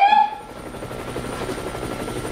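A helicopter drones steadily overhead, its rotor thumping in a soft, even pulse at a moderate distance, with no voices.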